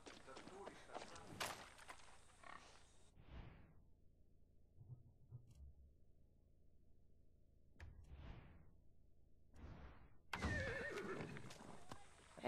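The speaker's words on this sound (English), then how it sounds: "Hey, horse. Ready to go?" A horse whinnies loudly up close in the video game Far Cry 6, with hooves clopping and game ambient sounds between bursts.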